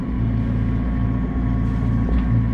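A sailboat's auxiliary engine runs steadily under way with the mainsail up in light wind, a low continuous droning hum that holds constant and close throughout, with no voices.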